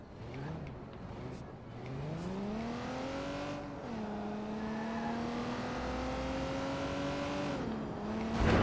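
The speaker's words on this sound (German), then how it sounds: "Oh, die Karre geht ab." A car in the video game Watch Dogs 2 revs and accelerates, its engine tone climbing steadily through several gear shifts, fairly faint in the game mix with a tire squeal.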